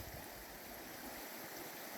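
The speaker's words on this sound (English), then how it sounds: "Nice little creek, pretty easy access down to it." A small creek at the Kyeburn diggings flows with a faint, steady trickle and rush of water, heard quietly from nearby with no voices.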